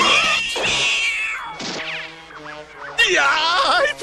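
A cartoon cat caterwauls in a long wavering yowl, loud and close, with a second strained cry near the end; cartoon voices are mixed in around it.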